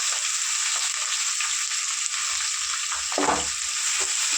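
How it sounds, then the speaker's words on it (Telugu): Sliced onions and green chillies fry in a pan, a strong, even sizzle that continues unbroken, with a brief stir and clatter near the end. "ఉల్లిపాయలు కొంచెం దూరంగా ఫ్రై చేసుకున్నాం"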